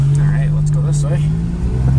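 A Geo Metro that has sat unused for years accelerates and shifts up through its gears, its steady engine hum loud and continuous with a climbing whine, heard from inside the car.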